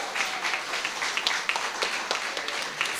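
Audience at a primary schools spelling bee applauding the third-place school, a dense patter of many hands clapping with a few sharper claps standing out, steady and fairly close throughout.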